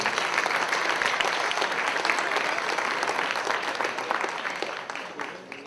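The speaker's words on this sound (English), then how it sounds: "give a big round of applause for a great day" Sustained loud applause from a large audience at an awards dinner, steady clapping throughout that gradually thins out toward the end.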